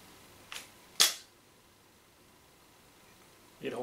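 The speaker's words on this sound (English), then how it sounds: "I will use my middle finger to puncture the CO2 canister." Puncturing a CO2 canister on a Tippmann TCR paintball marker: two sharp hissing clicks close together, the second louder, then a quiet pause before a fainter hiss of gas near the end.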